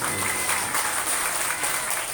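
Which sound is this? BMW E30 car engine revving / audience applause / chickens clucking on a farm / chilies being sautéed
audience applause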